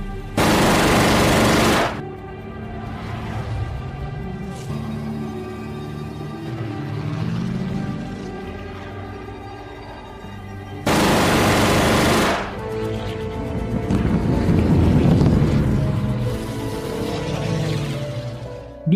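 Machine guns fire from German fighter planes in the World War II film Dunkirk. Two loud, sharp bursts, each about two seconds long, are separated by droning aircraft engines and a tense score.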